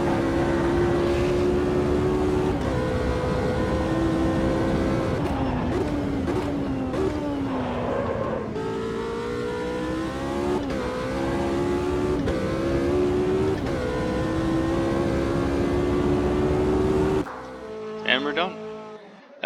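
P3 Rocco race car engine in Automobilista 2, a loud, steady droning tone rising and falling as the car revs and shifts through gears, with a person talking over it before the engine cuts out near the end.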